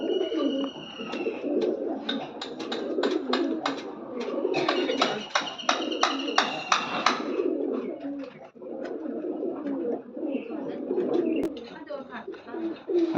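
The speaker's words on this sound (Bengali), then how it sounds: "3য় নম্বর জোড়ার এটা নর কবুতর।" A male pigeon coos in soft, repeated low calls close to the mic while someone talks over much of it, with a few sharper chirps and flutters mixed in.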